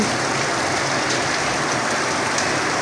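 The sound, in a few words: rain falling outside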